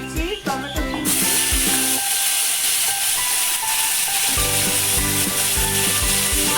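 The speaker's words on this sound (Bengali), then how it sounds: "এইবার দিয়ে দিচ্ছি টমেটো পিউরি" Tomato puree hits hot oil already holding bay leaves and black cumin for a cucumber curry, bursting into a loud, bright, continuous sizzle after a second of utensil clatter, with rhythmic scraping and stirring knocks beneath.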